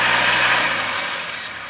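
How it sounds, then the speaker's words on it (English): A tractor chewing down tall green rice into mulch in a wet field, a continuous engine drone with dense chopping noise that eases off toward the end, no talking. "all that big tall green rice on the right is getting cut down with the tractor"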